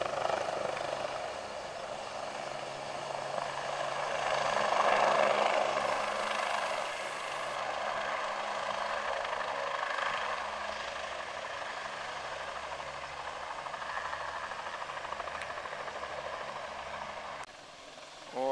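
A helicopter lifting off with passengers at a busy heliport, its engine and rotor roaring steadily at a moderate distance, swelling and fading over the whole span.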